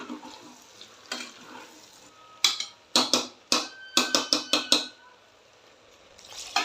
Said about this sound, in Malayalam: ഇനി ഊന്തിയ മസാല ആവശ്യത്തിന് ചേർത്ത് കൊടുക്കുക. എന്നിട്ട് നന്നായി മിക്സ് ചെയ്യുക.